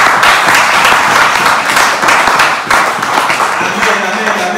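A church congregation at an Easter Sunday service bursts into loud, sustained applause, a dense wash of many hands clapping close and steady for several seconds, with a few voices faintly mixed in as it begins to fade.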